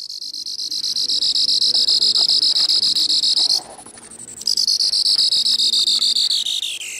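A circuit-bent Moog synthesizer gives a loud, steady, high theremin-like whine that breaks off briefly near the middle. It then returns and slowly glides downward in pitch, with no talking.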